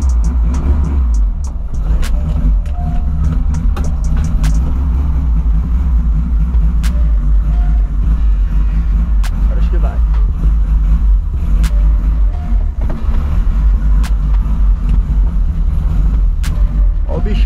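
A Volkswagen Voyage idles and creeps out of a tight garage, its engine a steady low rumble close by with occasional faint clicks and knocks, and a voice speaking briefly over it.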